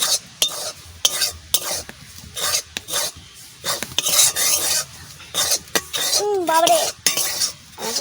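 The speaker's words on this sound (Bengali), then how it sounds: "আমি ময়দা ময়দাটা আমি তেলে ভালো করে ভেজে নিচ্ছি" Flour frying in hot oil in a pan while being stirred: a spoon scrapes and rasps against the metal in uneven strokes over a soft sizzle. The sound is close and busy, with no talking.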